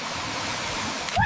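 Cold mountain stream water rushes in a steady, dense hiss, close and unbroken through the short moment.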